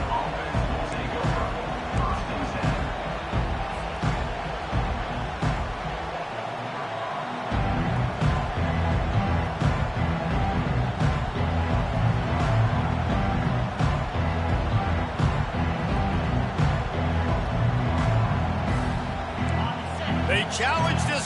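A football crowd cheers and roars steadily in a large stadium, the noise swelling partway through and holding under a commentator's continuous play-by-play talk.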